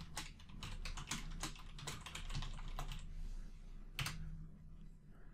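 Fast, steady typing on a computer keyboard while writing C# code, dense clicking keystrokes in quick bursts with a brief pause near the end, close and fairly quiet.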